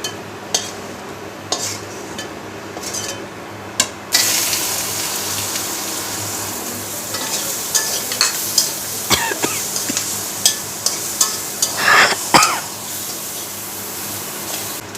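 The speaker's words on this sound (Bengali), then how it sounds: "পেঁয়াজটা একদম লাল করে ভেজে নিতে হবে।" Onions fry in oil, a steady sizzle that swells louder partway through, broken by repeated sharp clinks and scrapes of a spatula stirring against the pan; no one speaks.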